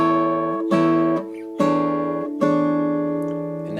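Clean electric guitar playing a chord move in an arrangement, a low E bass note struck with each chord, several ringing strums at a moderate pace, close and clear with no talk.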